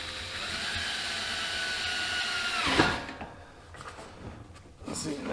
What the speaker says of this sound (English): Just drill it lightly.